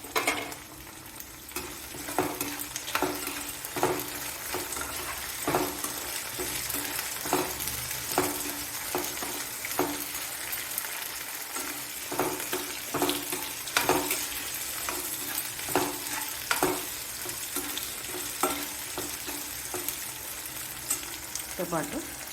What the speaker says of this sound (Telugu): వెల్లుల్లి వేగిందండి. పచ్చిమిర్చి వేస్తున్నాను.